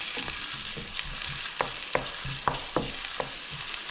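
Garlic and onions fry together in a pan for a Mediterranean pork chop dish, giving a steady close sizzle broken by several sharp clicks and taps from stirring, with no talking.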